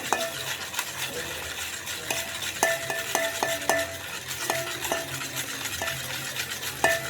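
A spoon stirs a mixture of Eno powder, turmeric and salt in a bowl during homemade butter preparation, giving a run of sharp metallic clinks and taps in an irregular rhythm, close and moderately loud with quiet scraping between.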